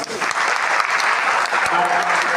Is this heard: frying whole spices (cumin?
no